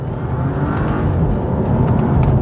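Turbocharged BMW M235i accelerating hard with a steady, loud engine drone. No single upshift kick stands out.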